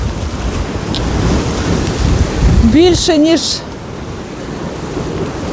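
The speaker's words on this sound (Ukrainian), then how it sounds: "тут завжди трохи море хвилюється" Sea waves wash against a beach with no breakwaters, a steady rushing surge of water with a short voice heard partway through.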